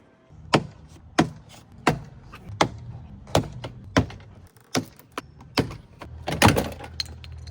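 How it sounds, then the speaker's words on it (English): Prying a door panel off a BMW E39 540i produces a series of sharp, evenly spaced knocks and snaps, about a dozen close, crisp hits roughly every half second, with a rougher clatter near the end. "Now it's time to just pry this little panel off here."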